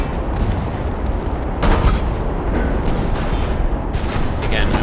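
Naval guns boom and rumble in a steady barrage during a warship battle in the video game Ultimate Admiral Dreadnoughts, dense broadband blasts with sharper bursts near the middle and end, no talking.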